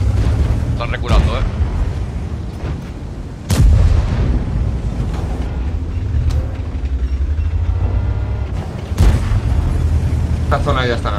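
Artillery fire and shell impacts in the tank battle game World of Tanks, several heavy booms with sharp onsets punctuating a rumbling engine and battle bed, while someone talks over the action.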